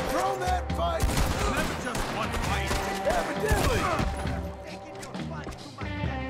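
Gunfight in Red Dead Redemption 2 with a shotgun in use: dense bursts of loud gunfire and crashing impacts crowd together over a few seconds, with game voices underneath.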